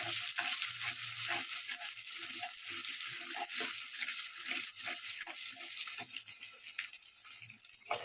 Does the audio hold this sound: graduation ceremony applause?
no